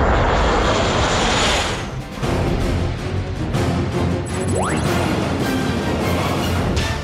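An FA-50 fighter jet passes, its engine a loud, continuous broadband roar that dips briefly and then holds steady, with a faint rising whine cutting through near the end.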